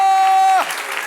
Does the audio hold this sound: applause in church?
yes